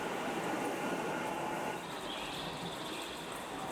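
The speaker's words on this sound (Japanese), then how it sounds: "特急サザンをお見送りしまして" A Nankai limited express Southern train pulls out of Izumisano station, a faint steady rumble of wheels and rolling stock that shifts in tone as it moves off, heard from the platform without any talking.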